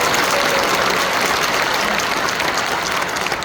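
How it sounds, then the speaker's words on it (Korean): Steady audience applause fills the hall at a church elders' retreat lecture, a dense, even wash of clapping from a large seated crowd, loud and continuous throughout with no voices on top. "항상 박수로 격려해 주셔서 감사합니다."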